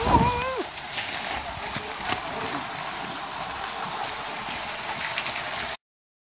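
A large waterfall in a forest rushes with a constant, broad, hissing roar, close and steady, while a hiker's voice briefly cuts in at the start before the sound stops abruptly.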